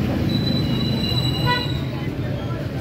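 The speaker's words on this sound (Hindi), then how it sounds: "सब मिलके 14 अगस्त पे भोंपू बजाएं" Thin, wavering toy trumpet horn toots rise over a dense crowd murmur and street noise in a busy wholesale market lane during Independence Day celebrations, a couple of blasts overlapping near the middle.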